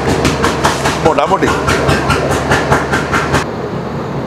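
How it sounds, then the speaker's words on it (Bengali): A train running just after leaving Siliguri Junction on the Kanchan Kanya Express, with loud rhythmic clickety-clack of wheels over rail joints and steady rumble; a brief voice is heard. "আমাদের ট্রেন ছেড়ে দিয়েছে শিলিগুড়ি জাংশন থেকে।"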